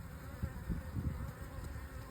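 Honeybees being shaken from a package into a hive give off a soft, continuous buzzing drone with faint swelling pulses, quiet and close, with no talking.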